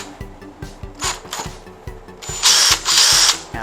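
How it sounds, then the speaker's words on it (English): A power drill whirs in short repeated bursts, close and loud, rising to longer high-speed runs near the end, while fitting a headphone bracket. "So now, drill the holes."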